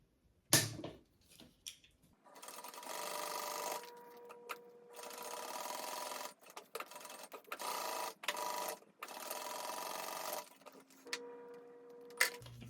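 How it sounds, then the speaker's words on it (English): A home sewing machine stitches down each side of a crossbody bag strap, running in several close, steady bursts of whirring with short pauses between them. "I'm gonna sew down each side of those"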